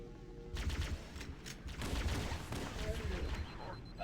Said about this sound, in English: there's no limit to how fast you can tap fire, and individual bolts actually do quite a bit of damage